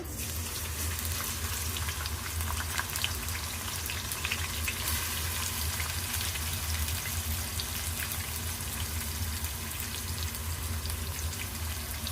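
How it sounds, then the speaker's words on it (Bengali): Chopped onions frying in hot oil, a steady, dense sizzle and crackle that holds at an even level throughout, with no voices. "এখন দিয়ে দেবো পেঁয়াজ কুচি"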